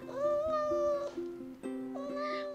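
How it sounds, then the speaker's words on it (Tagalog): A pet cat meows affectionately, giving a few close, clear, drawn-out meows with rising and falling pitch over a quiet background. "habang naglalambing ang kanyang pusa"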